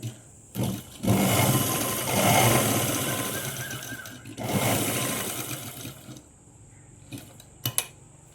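Sewing machine stitching a Punjabi dress, running in two long bursts of steady mechanical whirring separated by brief pauses, with a few short clicks and taps near the end and no talk.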